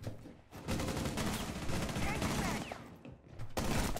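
Shotgun gunfire in a first-person video game: dense, loud bursts of shots in rapid succession that drop off briefly and then resume, with no clear talking.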